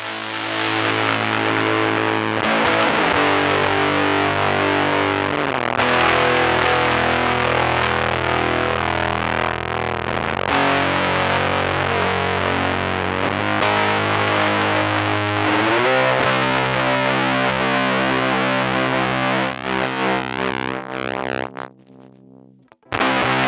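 A bass played through a Bass Fuzz distortion pedal gives thick, loud, buzzing sustained notes that change pitch every few seconds, then drop out abruptly near the end.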